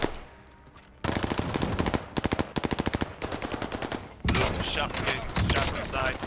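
Rapid automatic gunfire rattles loudly in a video game shootout, with bursts of machine-gun fire and a continuous fusillade near the end, while players talk in between.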